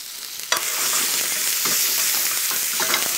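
Freshly chopped tomatoes hitting a hot pan, a sharp splash followed by loud, steady sizzling and frying with occasional stirring scrapes.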